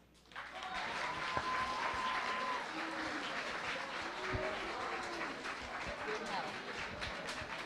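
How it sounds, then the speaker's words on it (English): Crowd applause at a sea level rise rally, a sustained patter of clapping that swells in after a quiet start and carries on, with voices and a few tonal sounds mixed in over it. "Round of applause for your own peers,"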